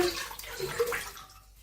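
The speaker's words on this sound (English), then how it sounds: "So I've got 700 milliliters of water." Water pours and splashes into a pot for lentil soup, a short bubbling gurgle that thins out and fades within about a second and a half.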